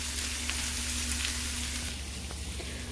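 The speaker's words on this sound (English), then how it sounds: "Look at that sizzle." Onions sizzle steadily in a hot pan, a constant crackling hiss with faint pops, close by, with no voices.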